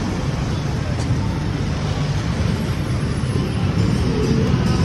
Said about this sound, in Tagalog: See? Traffic.